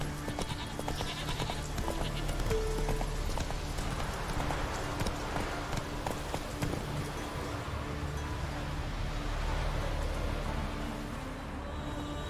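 Horse hooves clip-clop steadily through The Witcher 3's game world, a continuous rhythmic trot at moderate loudness over rustling ambient noise, with no talking.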